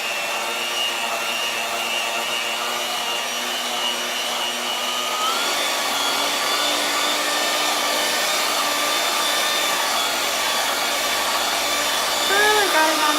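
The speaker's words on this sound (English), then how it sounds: "Now we're gonna blend that." A blender runs continuously for over ten seconds, whirring through a keto pumpkin mousse mixture with a steady mechanical drone that shifts slightly in pitch midway.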